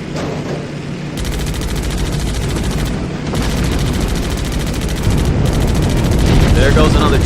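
Sustained video-game gunfire from Damage Inc. Pacific Squadron WWII on Xbox 360 as a jeep is destroyed, a loud, dense rattle of shots and blasts that stays steady and grows slightly heavier toward the end.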